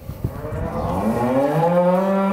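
Cows mooing inside a barn, a long, loud, drawn-out low call rising and holding steady, close by, with a brief rustle at the start and no speech.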